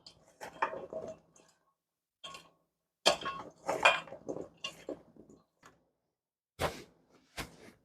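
Mustard pickle mixture stirred in a bowl, a string of clinking and scraping utensil knocks in short irregular bursts separated by quiet pauses, close and fairly clear.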